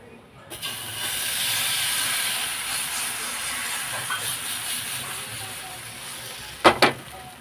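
Thin semolina bread batter fries in an oil-brushed pan over low to medium flame, giving a loud, steady hiss that settles slightly over time. Two sharp knocks of the pan sound near the end.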